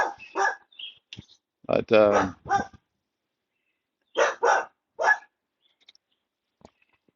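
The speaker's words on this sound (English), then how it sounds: "Anyway, the last part was just barking." A hunting dog barks in several separate bursts, some short and sharp and one longer and more tonal, fairly close by, with brief quiet gaps between them and a voice briefly audible.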